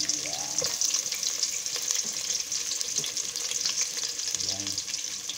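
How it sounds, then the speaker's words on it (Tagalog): Garlic and onion sizzle steadily in a small pot over high heat, a dense continuous frying hiss with faint clinks and stirring scrapes running through it. "magigisa tayo guys ngayon ng ating sibuyas at bawang sa ating maliit na kaldero"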